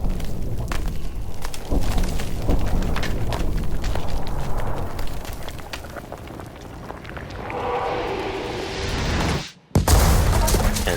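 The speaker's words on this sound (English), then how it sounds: "the elevator started to rumble as if explosions were happening underground" Elevator shaft in Battlefield 1 rumbling like underground explosions, a dense crackling roar with scattered bursts that swells, fades briefly to a hush, then returns loudly.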